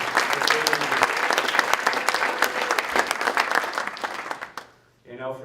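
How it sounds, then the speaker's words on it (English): Dinner guests at a Pickleball Hall of Fame induction ceremony break into lively, close applause that tapers off near the end, followed by a brief voice. "Let's give everyone a round of applause."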